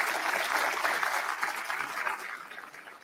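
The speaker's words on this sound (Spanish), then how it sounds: "recibamos con un fuerte aplauso" Applause from an audience at a lecture honoring an engineer, a steady patter of clapping that fills the room, then slowly thins out.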